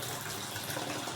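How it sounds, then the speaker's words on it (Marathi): Water runs and splashes steadily while half a kilo of pearl millet grains is rinsed clean in a kitchen, a continuous close washing sound with no talk. "ही बाजरी आपल्याला 2 पाण्याने धुवून घ्यायची आहे स्वच्छ"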